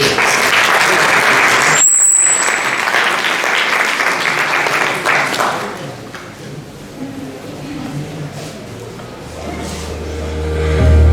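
Audience applause in a hall, a dense burst of clapping that stays loud for several seconds then thins and fades out, followed by quieter room noise.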